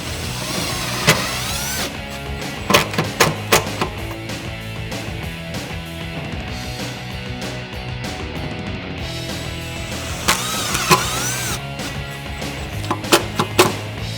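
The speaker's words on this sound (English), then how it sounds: "We're going to use a 1/4-inch socket on an impact to run those 2 screws in" An impact driver with a 1/4-inch socket runs self-tapping screws into Deegan fender flares on a Jeep Wrangler JK, giving several loud rattling bursts separated by pauses and quieter handling noise.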